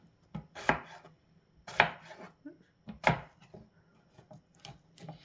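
A knife slices through medium potatoes on a wooden cutting board in a few spaced, crisp thunks with softer scrapes between, close and fairly quiet, no talking.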